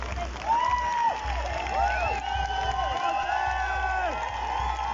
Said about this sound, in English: So I want you to give him a round of applause.